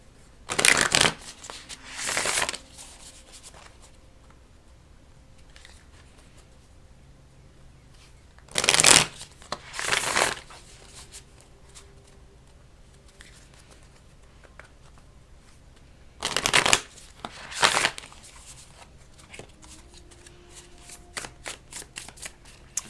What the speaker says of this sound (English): I'm going to shuffle off the desk here just because it gets a little loud.